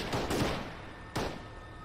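Gunfire in a military video game, with a dense burst of shots at the start, a short lull, then another sharp report. The shots are moderately loud, with no talk over them.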